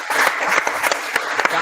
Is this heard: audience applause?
yes